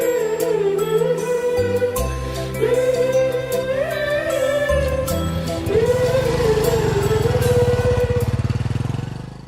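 A motorcycle engine revs and pulls away, its pitch rising and falling through gear changes over a music bed, loud and close before fading at the end.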